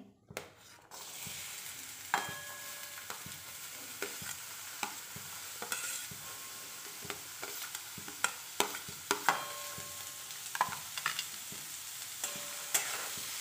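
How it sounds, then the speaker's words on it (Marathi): Chopped onions, two large ones, frying in oil in a pan for tomato chutney, giving a steady broad sizzle with scattered light clicks and scrapes of stirring throughout. "त्यानंतर मी ॲड करते 2 मोठ्या आकाराचे मी कांदे कापून घेतलेले आहेत. ते मी टाकते."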